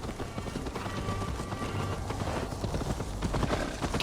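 Horse hooves clip-clopping steadily on the ground in Assassin's Creed Valhalla, a dense continuous trotting rhythm close up over game ambience.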